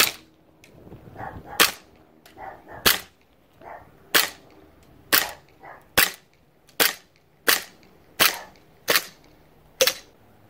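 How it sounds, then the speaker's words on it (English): An ASG CZ-75 SP-01 Shadow airsoft gas blowback pistol fires outdoors in daylight, a series of about fifteen sharp, loud snapping shots, some in quick pairs and others spaced out, each followed by a faint mechanical clack. "this is the shooting test of the ASG CZ-75 SP-01 Shadow"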